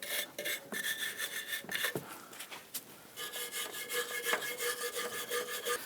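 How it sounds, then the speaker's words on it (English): A bristle brush scrubs the control arm mounting area on a Hummer H3 in quick, close, rhythmic strokes, a raspy scraping that pauses briefly before resuming. "use a bristle brush and clean up where the control arm and the cam bolts are going to go"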